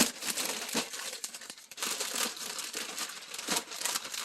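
Plastic packaging around diamond painting kits is torn and crumpled through several layers, giving a close, continuous crinkling and crushing with sharp tearing bursts, no voices.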